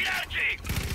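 Gunfire in the Far Cry 5 video game: a quick run of sharp, rattling mechanical cracks in the middle distance, over in about a second.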